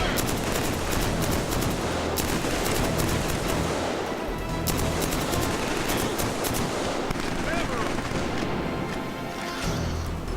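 A sustained barrage of close automatic gunfire from a Killzone 3 weapon rattles on without pause for about ten seconds, thick with overlapping shots and occasional heavier booms in the mix.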